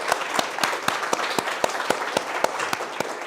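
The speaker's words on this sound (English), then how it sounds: "A round of applause for you all." Applause from a small audience at a Berlin tech talk on product and software development, with distinct individual claps standing out in a steady patter for about three seconds.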